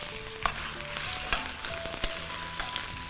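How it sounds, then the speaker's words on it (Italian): Garlic and shrimp tails sizzle hard in a hot wok, with a constant crackling fry broken by a few sharp scrapes and clicks of stirring, close and loud with no talking. "sfrigola subito l'aglio, pochi secondi, e aggiungete le code di gambero"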